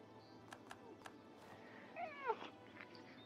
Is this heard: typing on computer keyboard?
no